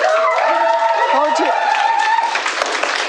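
Audience applause fills a township board meeting room in a steady, continuous wash, with a voice or tonal sound running over it.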